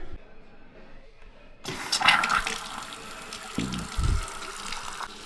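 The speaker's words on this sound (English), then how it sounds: "Let's turn the water on." A newly replaced bathroom faucet is turned on with a click, then water gushes steadily into the sink, close and moderately loud, with a couple of thumps under the flow.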